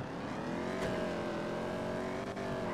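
A car in Grand Theft Auto speeds through the city streets of Los Santos, its engine droning loud and close in a brief, continuous rising run without any talk.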